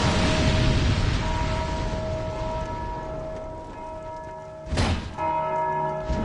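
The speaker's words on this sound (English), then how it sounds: "Damn it, and someone's rang the bell" Bell ringing in the video game Dark Souls II: a deep, heavy church-like toll with long sustained ringing overtones, a strong struck hit near the end over a rumbling background, no speech.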